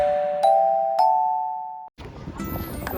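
A bright electronic bell chimes twice in quick succession, ringing out cleanly before cutting off, then gives way to a muffled outdoor background of noise.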